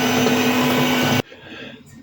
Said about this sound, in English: mix everything together either with your hands or a kitchen machine to a nice smooth dough